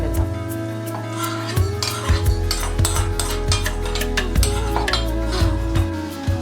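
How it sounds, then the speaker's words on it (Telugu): Fried whole red chillies and spices being scraped and tipped from a pan into a mixer jar: repeated metallic scrapes and clinks of a spoon against cookware, close and fairly loud, with a faint background hum and no talk. "ఇవన్నీ మిక్సర్ జార్లోకి ట్రాన్స్ఫర్ చేసేద్దాం"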